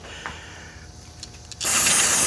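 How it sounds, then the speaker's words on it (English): Carburetor cleaner sprays onto a lawn mower's governor in a loud continuous hiss that starts abruptly after a couple of seconds of quiet mechanical clicks and ticks. "I'm gonna spray this thing off real quick"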